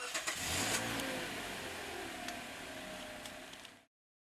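A Toyota car engine cranks and catches, then settles into a steady idle that holds for several seconds before cutting off abruptly, heard close with no talking.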